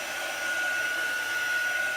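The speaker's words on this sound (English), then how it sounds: "Now I'm going to try to move my hair dryer around" A hair dryer blows steadily and close, a continuous airy rush with a fixed whine running through it, heard alone at a constant level with no talk.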